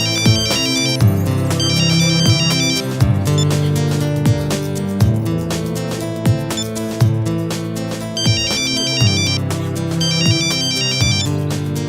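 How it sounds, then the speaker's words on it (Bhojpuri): A mobile phone ringtone plays loud and close for a call in a Bhojpuri film scene, a repeating electronic melody with steady beats and no talking. "फिर फोन लगावा तानी।"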